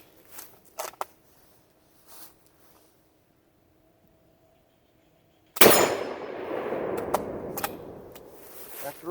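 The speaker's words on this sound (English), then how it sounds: "After all these years, it still shoots pretty good. It's a pretty nice rifle." A short model Lee Enfield rifle firing old Pakistani ammunition lets off one loud, sharp shot midway, whose echo and rumble trail off for several seconds after a few faint clicks beforehand.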